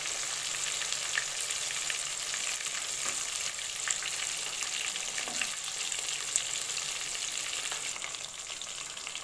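Egg-coated chicken pieces for chicken satay fry over a low gas flame, giving a steady, soft, continuous sizzle with faint crackles throughout and no talking.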